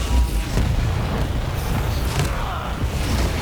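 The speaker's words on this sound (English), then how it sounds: "These rockets, very hard to hit" Rocket explosions in Quake Champions during a competitive esports match at the Italian Esports Open 2017, heard as a dense, continuous rumble of booming blasts and low thuds that runs throughout the clip.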